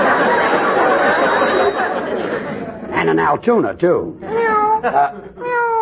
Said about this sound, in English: Another cat following me.